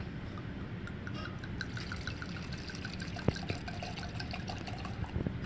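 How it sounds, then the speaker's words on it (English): Red wine poured into a glass from a bottle at a bar, a quiet, continuous trickle with faint splashes and a few drips, heard close up without talk. "That's pouring a glass of wine."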